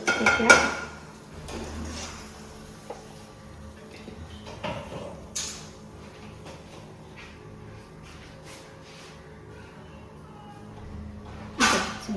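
A new cooking pan clatters in a home kitchen, with scattered metallic clanks and scrapes of pots and utensils, a few sharp knocks near the start and end, fairly close.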